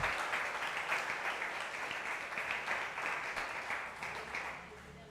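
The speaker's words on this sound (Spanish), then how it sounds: "Dele ese fuerte aplauso" A congregation applauds during a Sunday church service, a steady, dense clapping crowd heard at moderate distance, gradually easing off near the end, with some voices mixed in.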